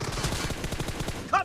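A Groza rifle fires in PUBG Mobile, a rapid, steady stream of close automatic shots across the whole moment, with a brief louder burst near the end.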